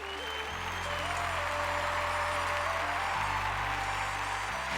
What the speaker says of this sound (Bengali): যতীন ললিতজির জন্য একটা জোরে হাততালি হয়ে যাক।